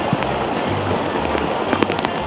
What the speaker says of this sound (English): Rain's getting worse.